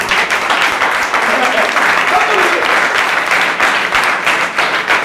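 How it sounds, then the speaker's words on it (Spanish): A church congregation claps loudly and continuously, a dense, sustained wave of applause close by with voices mixed in. "Aplaudan al que viene para ti."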